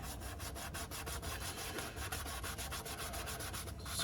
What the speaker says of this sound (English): So went ahead and grabbed a 1000 grit sanding pad